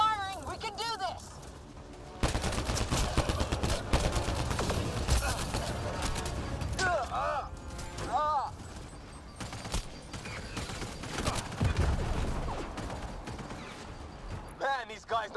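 Sustained gunfire in Mass Effect: Andromeda, dense rattling shots and impacts running throughout a frantic firefight, with clanking mechanical effects and shouted combat voices layered over it.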